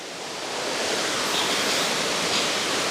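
Constant broadband rush of a large waterfall at the Parco della Cascate waterfall park, steady and enveloping throughout with no talk.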